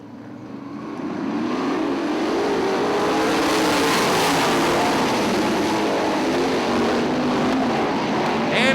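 A field of eight 410 sprint cars roars off the start at Ionia Raceway Park, the engine noise swelling within the first second into a loud, continuous, dense roar that holds steady for the rest of the stretch.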